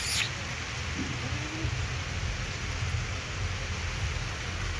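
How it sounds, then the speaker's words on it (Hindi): Heavy rain falls steadily on an outdoor goat farm, a dense even hiss with low rumbling noise throughout and no talk. "बारिश बहुत है फार्म पर,"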